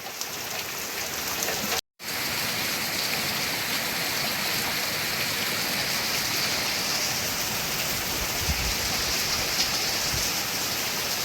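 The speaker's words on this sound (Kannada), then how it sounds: "ಹುಯ್ತಾ ಇದೆ ಮಳೆ ಜೋರಾಗಿ" Heavy rain pours down in a village, a dense, steady hiss of drops on surfaces that carries on loud and unbroken apart from one brief cut-out.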